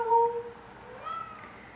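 Indoor cats meowing for attention: a clear, close meow at the start, then a softer, shorter cry about a second later, with no talking.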